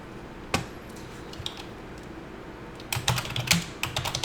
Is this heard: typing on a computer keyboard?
yes